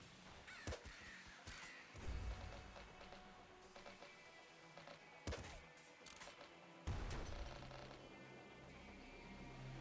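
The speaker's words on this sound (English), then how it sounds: "The sound of birds. Yeah, there are a lot of those here." Crows caw several times at scattered moments in the video game Nuclear Throne, over a steady background of rain-like hiss, fairly loud and close.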